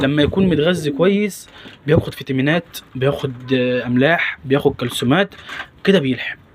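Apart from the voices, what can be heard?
None of the usual background noises is heard.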